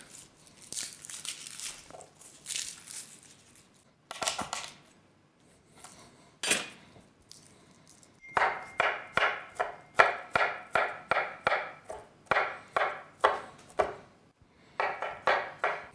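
A knife slices garlic cloves into pieces on a cutting board. Some scattered rustling and scraping comes first, then a quick, even run of crisp chopping strokes lands close by.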